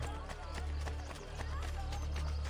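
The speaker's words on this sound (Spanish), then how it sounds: "Al caballo le cuesta un poquito girar." A horse galloping through narrow streets in the video game Assassin's Creed Brotherhood, with rapid rhythmic hoofbeats under a steady, faint game background.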